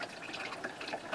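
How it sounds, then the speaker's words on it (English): Clean water runs steadily into a chicken coop waterer, a faint, brief, trickling flow heard on its own. "we got some nice clean water coming in"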